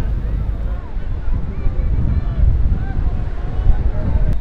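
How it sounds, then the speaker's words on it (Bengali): Strong wind and rough sea waves surge onto the beach at Cox's Bazar, a dense, continuous roar of gusting wind and breaking surf heard up close, with faint voices in the background. "সমুদ্রে প্রচণ্ড বাতাস, প্রচণ্ড ঢেউ"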